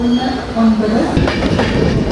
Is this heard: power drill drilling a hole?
no